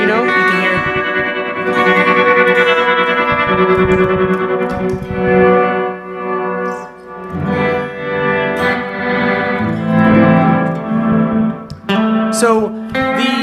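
Distorted electric guitar played through an Empress Reverb pedal set to a faster double-tapped tempo, with dense repeating echoes and washy reverb trailing continuous loud chords and notes, no talking.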